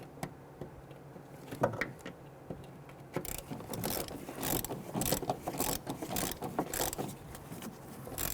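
A wrench or ratchet snugs down the shock absorber nut on a 2008–2013 Infiniti G37, giving a run of close, fast metallic clicks and ratcheting that pick up after a few quiet seconds and continue steadily.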